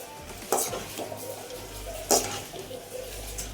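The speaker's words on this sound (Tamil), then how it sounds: "நானும் ட்ரை பண்ணி தான் கிண்டிக்கிட்டு இருக்கிறேன்" A ladle stirs sparrow curry frying in a kadai, cooked naatu style, with two sharp scraping clanks against the pan over a steady low sizzle and soft scraping between.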